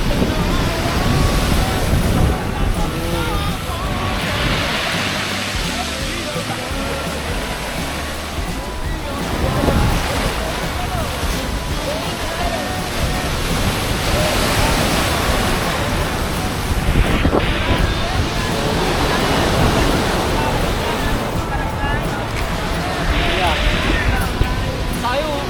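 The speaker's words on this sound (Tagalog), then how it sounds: "Lakas ng alon dito," Strong sea waves crash and surge continuously along the shore, a loud, broad roar with wind buffeting the microphone and swelling breakers rising and falling throughout.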